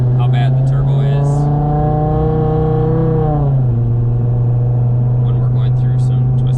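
The engine of an Audi TT RS, running 40 psi of turbo boost on a Syvecs setup, pulls hard from close by as its loud droning tone climbs steadily, then drops sharply at a gear change before the revving continues.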